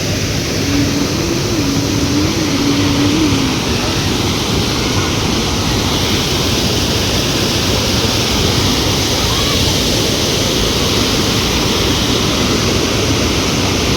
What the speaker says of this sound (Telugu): చూశారు కదా వాటర్ ఎంత బాగా దూకుతుందో